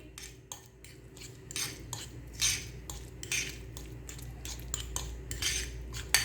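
A spoon beats egg whites in a bowl, with quick repeated clinks and scrapes in an uneven rhythm against a low steady hum, close-up and moderately quiet.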